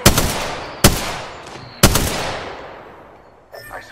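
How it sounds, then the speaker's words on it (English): Gunfire in the video game Apex Legends: three loud, close bursts of shots, each ending in a long decaying echo, spaced about a second apart, followed by a weaker burst near the end. "Getting shot at."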